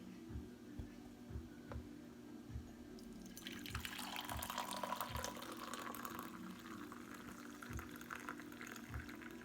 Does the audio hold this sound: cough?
no